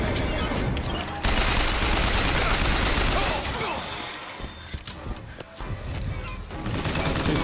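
Rapid shotgun blasts and crashing impacts from combat in the video game Bioshock Infinite, dense and loud, with a short lull midway before firing resumes, and someone talking briefly over it.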